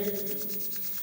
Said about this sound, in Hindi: हाथों को रगड़िए,